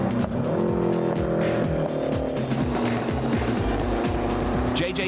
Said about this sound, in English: You can really hear his gear changes so much quicker.